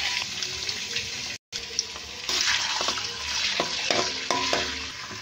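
Thin-cut chicken strips fry in a pan with a loud, close, crackling sizzle, with stirring scrapes and clatter throughout and a brief silent gap near the start.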